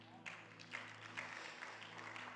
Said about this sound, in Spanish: Yo le voy a dar más fuertes aplausos al Rey.